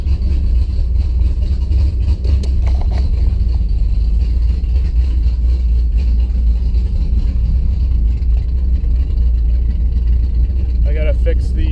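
A car engine fitted with Holley Sniper fuel injection and a faulty throttle position sensor drones steadily while driving around the block, a constant loud low rumble filling the cabin with occasional talk over it.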